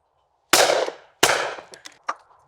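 Two loud, sharp shotgun blasts from a Browning go off close together at a shotgun competition final, each trailing a short echo, followed by fainter clicks and a thump.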